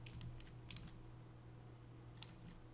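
Quiet computer keyboard keys and shortcut combinations pressed while compositing a green screen shot in Nuke, a few short clusters of soft clicks against a low steady hum.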